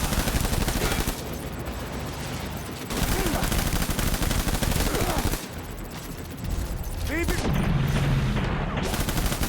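Sustained rapid gunfire from an enemy firing with seemingly endless ammunition in the video game Death Stranding, loud and dense across the whole stretch, with a voice heard briefly under the shooting.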